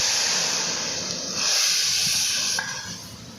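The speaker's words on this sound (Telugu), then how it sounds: "అది వేస్తారు ఇప్పుడు తాలింపు." Tadka tempering of fenugreek and spices sizzling in a hot pan, a steady close hiss that swells midway and tapers slightly toward the end, heard alone without talk.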